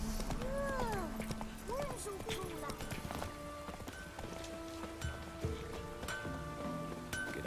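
Geralt's horse Roach from The Witcher 3 clip-clops along in a steady hoof rhythm, with a whinny and soft rain-like patter early on and game voices talking over it.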